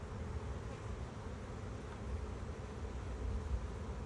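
Honeybees in an opened hive crowded with bees around queen cups make a steady, dense low hum that holds evenly throughout, close and continuous with no talk.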